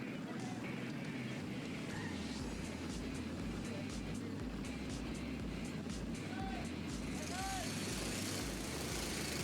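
Honda Cadet racing karts pull away from the dummy grid at Llandow, a faint layered buzz of small engines revving and rising together while a commentator talks over them.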